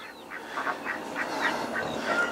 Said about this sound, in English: Cayuga duck.